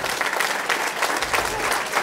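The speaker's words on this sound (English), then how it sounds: "give him a nice round of applause" A crowd claps steadily throughout, dense and moderately loud applause with no voices standing out.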